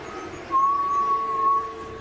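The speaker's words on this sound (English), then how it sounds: "The only presence felt is a subtle whistle in the distance." In a horror video game, a thin, steady high whistle rises out of a low ambient hum, holding one pitch for about a second before fading back into the background drone.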